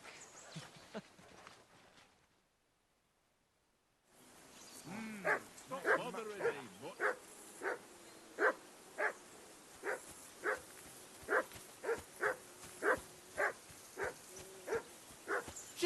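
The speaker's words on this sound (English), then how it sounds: "that barking's driving me nuts. Can you get your dog to shut its beak?" A dog barks repeatedly in Kingdom Come: Deliverance II at a riverbank camp, steady evenly spaced barks, fairly loud, following an earlier stretch of speech and a brief silence.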